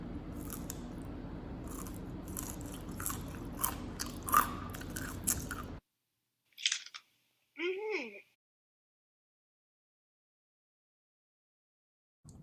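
Homemade fries bitten and crunched up close, a dense run of crisp crackling bites for about six seconds, then silence broken by a couple of short isolated crunches.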